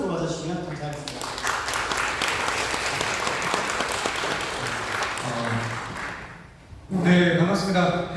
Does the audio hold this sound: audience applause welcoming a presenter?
yes